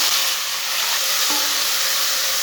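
Chopped tomatoes and whole green chillies fry in a hot pan for a kadhi pakora dish, giving a loud, steady sizzle and hiss throughout, with a small clink partway through and no talking.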